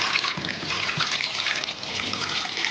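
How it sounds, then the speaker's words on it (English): Water poured from a container into a cooking pot of sweet potatoes, a steady, close splashing gush lasting the whole moment with no talk over it. "The water goes in."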